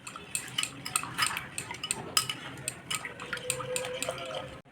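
A metal spoon stirs powdered milk into a bowl, quick repeated clinks and scrapes against the dish over a soft background, no voices.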